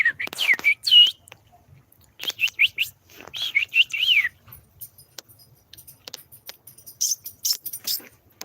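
Bright bird chirps and whistled calls in quick clusters, close and clear, with pauses of near silence between bursts.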